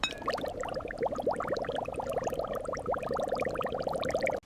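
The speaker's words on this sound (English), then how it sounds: "Carbon dioxide is infused into the water." Carbon dioxide bubbling through bamboo tubing into spring water in a jar, a dense run of small close bubbles and gurgles popping irregularly, cutting off abruptly at the end.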